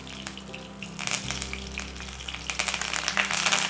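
Curry leaves hit hot coconut oil with a bright crackling sizzle that swells and spits steadily for a few seconds, close and without talking.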